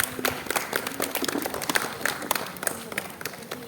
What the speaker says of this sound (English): Please have a big round of applause for Bhavish.